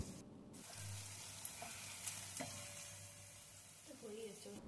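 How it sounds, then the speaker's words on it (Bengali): Chicken masala being stirred into rice in a pot, with a steady low sizzle and soft scraping strokes of a spoon, plus a few light clinks against the pot, quiet and close throughout. "আমি এখানে একটা পাত্রের মধ্যে ওই চিকেন কষার মশলাগুলোকে একটু একটু করে মিশিয়ে নিচ্ছিলাম"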